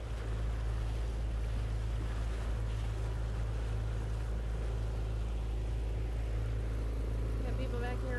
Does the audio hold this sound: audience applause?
no